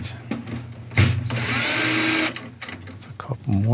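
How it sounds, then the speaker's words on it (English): A battery-powered drill fitted with a drum key bit whirs in one sustained burst of about a second while tightening snare drum tension rods, bracketed by short clicks and someone talking. "If you don't have a battery-powered drill with a drum key bit, get one."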